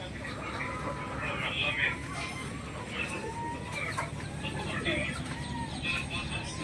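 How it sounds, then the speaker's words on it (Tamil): A crowd of native country chicken chicks, their high, rapid peeps and chirps overlapping constantly at close range, heard under a person talking. "எல்லாமே நாட்டுக்கோழி குஞ்சுங்க தான்"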